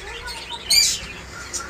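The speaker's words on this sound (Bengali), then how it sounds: "চন্দনা পাখি, এই যে দেখেন ডানার উপরে লাল থাকে" Alexandrine parakeets at a bird market give a single brief, sharp chirp amid muffled background noise.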